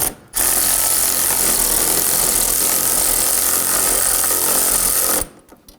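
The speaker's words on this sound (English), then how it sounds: "I am going to switch over to a power tool here." A power tool whirs loudly and steadily for about five seconds, driving bolts into a front wheel hub assembly on a 2005-2009 Subaru Legacy, then abruptly stops.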